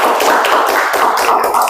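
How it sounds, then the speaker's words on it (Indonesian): A classroom of students applauds a student group after their presentation, steady dense clapping from many hands filling the whole moment without talk. "Ayo semuanya berikan tepuk tangan."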